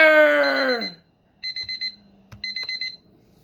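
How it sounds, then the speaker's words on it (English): An online timer alarm goes off with two bursts of rapid, high electronic beeping, each a short run of quick pulses, loud and close. A brief sustained tone comes just before it. "I was using an online timer to watch my time, and I was not ready for that to actually make an alarm noise."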